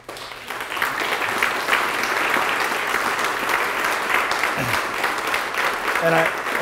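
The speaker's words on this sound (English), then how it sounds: "please give all those individuals a round of applause" Sustained audience applause at a salon event honouring military individuals, steady and fairly loud clapping from a sizeable crowd with no break, and a brief voice or tone near the end.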